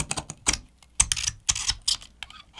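Sharp, gritty scraping strokes of a razor blade on a stainless steel phone frame, repeated in short rhythmic bursts about every half second, close and crisp.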